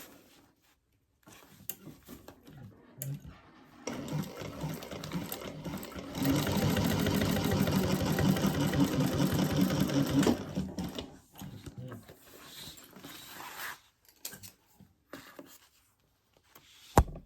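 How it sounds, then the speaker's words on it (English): A domestic sewing machine top stitches a fabric crossbody bag in steady bursts, with a loud continuous run in the middle and shorter starts and stops before and after, close and alone. "I think I'm just going to top stitch before I turn it."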